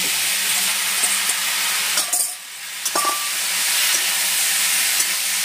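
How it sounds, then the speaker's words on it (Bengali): Marinated chicken dropped into a pan of frying spiced vegetables gives a steady, loud sizzling hiss that dips briefly as the meat goes in, then swells back to a constant fry, with no voices. "যে মাংসটা মাখিয়ে রেখেছিলাম সেই মাংসটা আবার দিয়ে দিচ্ছি"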